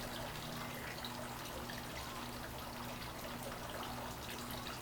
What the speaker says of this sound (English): I'm listening to the water in the fountain.